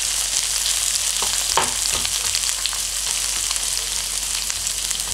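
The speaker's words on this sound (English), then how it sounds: "can you hear that sizzling" Garlic and onion fry in a pan with a steady, loud sizzle filling the clip, a dense crackling hiss with a few sharper pops near the start, continuing without pause and with no talking.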